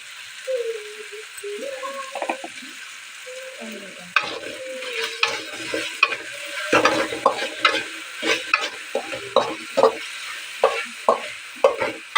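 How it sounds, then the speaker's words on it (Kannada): Potatoes, tomatoes and green chillies frying in a pan, with a repeated scraping stir of a spatula giving a steady rhythm of clanks and scrapes over a soft sizzle, close and moderately loud, no voices. "ಆಲೂಗಡ್ಡೆ ಮತ್ತು ಟೊಮೊಟೊ ಹಸಿಮೆಣಸಿನ್ಕಾಯಿ ಫ್ರೈ ಆಗ್ತಾ ಇದೆ"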